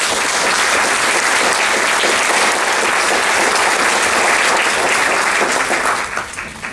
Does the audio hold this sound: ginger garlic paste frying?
no